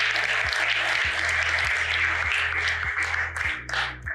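Conference audience applauding, a dense wash of many hands clapping together, steady and fairly close for about four seconds before thinning slightly at the end.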